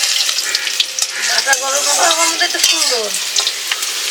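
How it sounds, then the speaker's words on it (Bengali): Chopped onion sizzling in hot oil in a pan while being stirred for a spicy Bengali lote fish dish, loud close frying with scraping strokes and a short spoken word over it. "পেঁয়াজটা একটু ভাজি ভাজি হয়ে গেছে"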